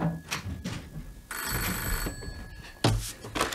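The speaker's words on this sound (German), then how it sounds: "da klingelte das Telefon" An old-style telephone bell rings in a radio drama, one long metallic trill between softer room sounds and rustling, with a brief sharp clunk afterward.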